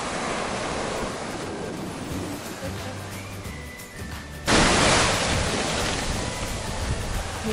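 Sea waves wash onto an empty Ionian Sea beach in Greece at sunset, a steady broadband surf roar that swells into a louder, closer wave break midway and stays full to the end, with no voices.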